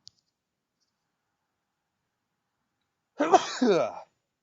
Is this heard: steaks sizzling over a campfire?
no